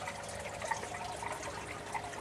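Water trickles steadily through an aquaponics grow bed, a soft, continuous wash with no voices.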